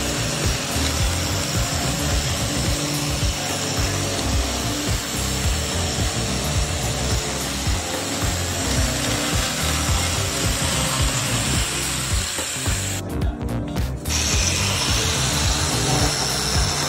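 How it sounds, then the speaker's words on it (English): A power tool grinds old coatings off a wooden surface, a loud continuous abrasive whir with rough scraping texture that runs steadily, dropping out only for a moment near the end. "the tool strips old coatings efficiently, exposing clean wood for refinishing."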